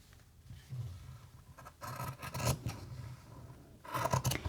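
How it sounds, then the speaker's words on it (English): Scissors trimming bobbin lace threads to matching length on a lace bag piece, a few quiet close-up snips and rustling cuts in short bursts separated by pauses. "you can trim these two to be the same length"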